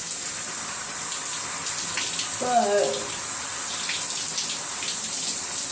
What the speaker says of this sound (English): what I'm doing right now is allowing the water to saturate my hair